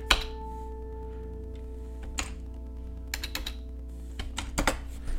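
Someone types code on a computer keyboard in a few scattered bursts of soft key clicks, close but faint, over a steady low electrical hum.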